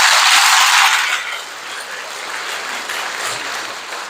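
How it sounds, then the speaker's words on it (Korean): Congregation applause during a Korean Catholic parish day Mass, loud close clapping at first that settles into a steadier, softer patter. "우리 다 함께 서로를 위해서 우리 박수 한번 칠까요?"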